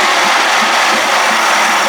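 A 1979 Evinrude 55 hp outboard motor runs steadily at high revs, a loud, dense, unbroken roar filling the whole stretch with no voices.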